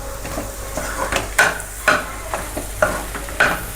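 A spoon stirs egg fried rice with tomato ketchup and soy sauce in a pan, scraping in a steady run of about seven soft strokes, close and moderately loud over a faint sizzle.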